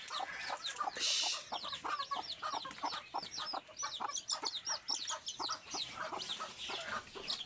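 Native chicken chicks in a rainy-day brooding pen give a steady stream of high, rapid peeping chirps close by, with no voices.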